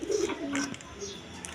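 Kaldom pigeons coo softly nearby, a few low throaty calls in short bursts at moderate volume with faint background rustle.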